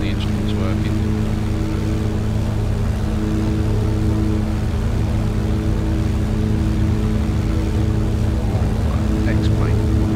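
A GippsAero GA8 aircraft engine drones steadily and loudly throughout, a constant propeller hum with layered tones and no breaks.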